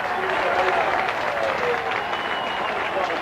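A large British crowd applauds and cheers Nigel Mansell at the 1991 British Grand Prix, a dense, steady roar of clapping that carries on without a break.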